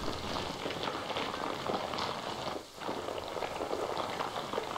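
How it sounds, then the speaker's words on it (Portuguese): Steady rain falls in the Planet Zoo video game, a continuous hiss of drops that briefly dips near the middle before resuming at a moderate, even level. "Começou a chover de novo."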